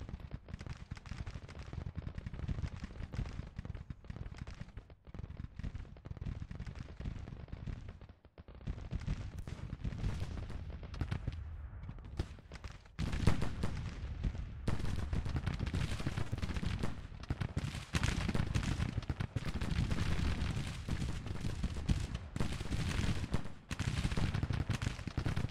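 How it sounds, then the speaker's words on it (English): Musket volleys crackle continuously across a Civil War battlefield in Grand Tactician: The Civil War, distant rattling gunfire with dense overlapping shots that grow heavier partway through, at a low overall level. "Turn and engage, they're shooting into your flank."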